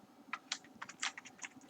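Quick, light keystrokes patter on a computer keyboard while code is typed, a close, quiet run of irregular clicks in a hushed room with no voices.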